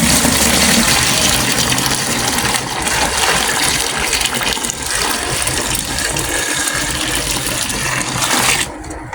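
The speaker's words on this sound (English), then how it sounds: "So this is 6 liters of our boiled hot water. We'll just go ahead and add it inside." Six liters of boiled hot water pour into a bucket for homemade hair conditioner, a loud, steady gushing splash running nearly unbroken throughout before cutting off at the end.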